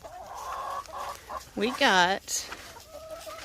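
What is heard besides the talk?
chickens clucking in the chicken run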